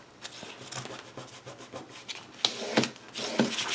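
Adhesive paper storage pockets for a custom planner keeper are burnished flat by hand, giving close, irregular dry scraping and rubbing strokes with a few sharper scuffs toward the end.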